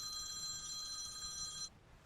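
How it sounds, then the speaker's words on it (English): A telephone bell rings in one steady, bright trill for under two seconds, then stops abruptly, leaving quiet background with no talk. "hang on a second, I'm getting a phone call"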